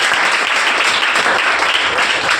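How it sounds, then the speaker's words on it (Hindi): Loud, dense applause from an audience at a coaching-class ceremony welcoming topper students, a steady roar of many hands clapping without pause and no voices on top. "एक बार जोरदार तालियां।"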